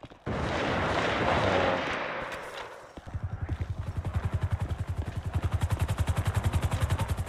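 A loud roaring burst of video game gunfire and explosion gives way to rapid, rhythmic automatic fire that continues steadily, close and intense, with no talking.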